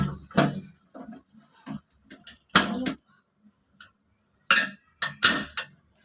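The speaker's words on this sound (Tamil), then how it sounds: "இப்போ வந்து குக்கரை மூடி போட்டுடலாம்" A home kitchen pressure cooker being closed as mutton curry begins to cook: several sharp metallic clanks and clicks of the lid, scattered irregularly with quiet gaps between them, close and fairly loud.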